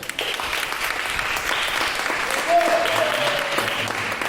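Church congregation applauding in praise during a Portuguese-language worship service, a steady wash of many hands clapping with murmuring voices underneath and a brief vocal tone partway through.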